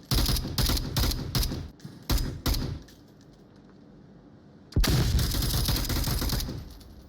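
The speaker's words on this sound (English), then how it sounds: "Flashbang is effective." Onward VR match, competitive tactical shooter: a rapid series of loud gunshot bursts and a sharp flashbang crack, a quieter lull, then a sudden blast followed by sustained heavy gunfire.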